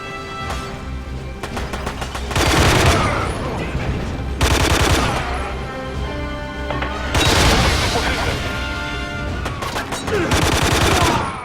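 Heavy automatic gunfire from a big firefight in the James Bond game Quantum of Solace, with loud bursts of machine-gun fire that swell and ease again and again over constant background battle noise.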